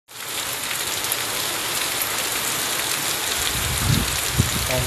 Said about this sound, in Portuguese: Faz mais de uma hora que tá chovendo.